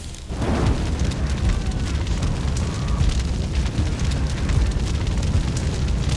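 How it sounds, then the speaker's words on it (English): A grenade goes off in the shooter game Defiance with a sudden loud blast, followed by a sustained rumbling roar and crackle that lingers for several seconds. "Oh, that's a grenade."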